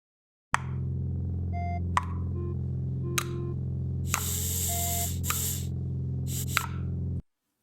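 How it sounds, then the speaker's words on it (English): Block-style tapping sound effects play one after another for a machine-themed sound design, sharp ticks and clicks over a steady low hum, with short bursts of hissy noise between them. "I want to use one of the block sounds, the sort of tapping sounds that I had"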